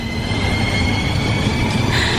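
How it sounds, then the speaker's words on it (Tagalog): A train pulling into a station gives a loud, steady rumbling roar with a high metallic whine above it, building slightly toward the end, with no talk. "Nandito na tayo sa next station. Hihinto na ang tren."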